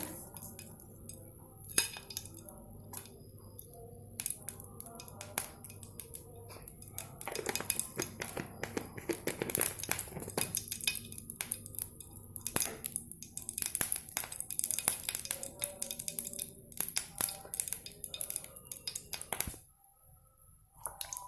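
Mustard seeds splutter in hot oil in a pan, a dense run of sharp, irregular pops and crackles close by, growing busier in the middle before cutting off near the end.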